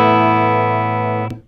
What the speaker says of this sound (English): This is all of the controls wide open, and we're here on the bridge pickup.